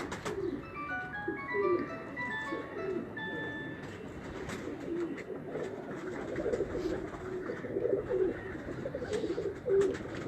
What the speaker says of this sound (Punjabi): ਇਹ ਜੰਗਲੀ ਕਬੂਤਰ ਆ ਜੀ, ਸਾਡੀ ਬਰੀਡ ਘਰ ਦੀ